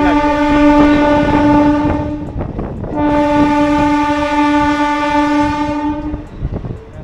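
A train passes the Uttarpara rail gate, sounding two long, loud horn blasts close by over a steady rolling rumble.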